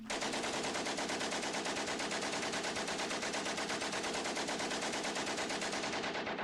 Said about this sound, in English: He invented a weapon that shoots that many bullets at the same time and it doesn't jam or nothing.